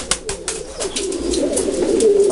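A breeding pigeon coos in low, repeated throaty bursts, close by, with rustling and clicks alongside in a loft setting.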